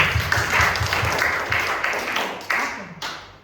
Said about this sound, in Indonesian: Tepuk tangan supaya bantu